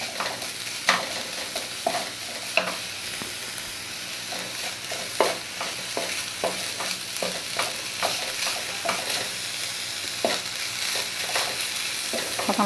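Close-up stirring of jaggery frying in a pan: a continuous sizzle with repeated spoon scrapes and taps against the metal at an uneven, busy rhythm, sustained for several seconds with nobody speaking.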